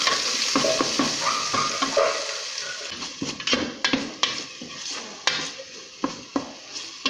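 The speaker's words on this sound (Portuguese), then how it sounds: "Deixa eu dar uma refogadinha" Garlic, tomato, bell pepper and onion sauté in hot oil for a chicken dish, a loud close sizzle broken by repeated spoon scrapes and clinks against the pan.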